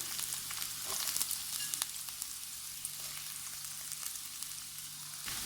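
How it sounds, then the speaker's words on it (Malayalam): Chopped onion, green chilli and curry leaves sauté in hot oil for a Kerala-style beef stew, giving a steady, moderately loud sizzle throughout with occasional soft crackles and no voices. "നമുക്കിതിലേക്ക് അരിഞ്ഞു വെച്ചിട്ടുള്ള സവാളയും പച്ചമുളകും അതുപോലെ കറിവേപ്പിലയും ചേർത്ത് കൊടുക്കാം"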